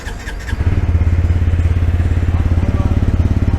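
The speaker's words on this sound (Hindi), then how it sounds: "मोटरसाइकिल न्यूट्रल में है, इसको स्टार्ट कर लेते हैं अपन लोग।" A 2025 TVS Apache 160 4V motorcycle engine cranks and catches in neutral, then settles into a steady, throbbing idle with a deep, even rhythmic pulse, close by and loud.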